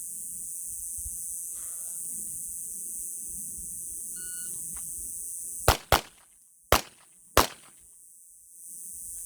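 Four loud, sharp pistol shots from a Taurus GX4 Toro in two quick pairs, cracking close against a quiet outdoor background with a faint steady hiss.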